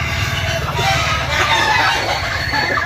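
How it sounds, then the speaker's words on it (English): A rooster crows loudly and close by, a drawn-out call filling the clip over a steady noisy background. "the chicken flapped its wings and then crowed."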